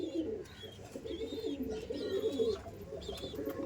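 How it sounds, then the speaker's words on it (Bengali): Pigeons kept at a house coo softly in a run of low, throaty, rolling calls, fairly faint and close, with no talking. "দেখুন এটা কিছু ভালো পায়রা"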